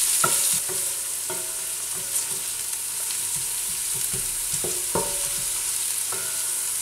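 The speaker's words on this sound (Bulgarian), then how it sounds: "И разбъркваме." A spoon scrapes and clinks through a lean meatless moussaka mixture sizzling in a pan, the close, irregular stirring strokes over a steady fry with no talk.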